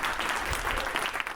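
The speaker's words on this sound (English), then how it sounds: "a huge round of applause, please, to our panellists" Sustained applause from an audience thanking a panel of speakers, steady and dense clapping at moderate distance that continues throughout before cutting off abruptly.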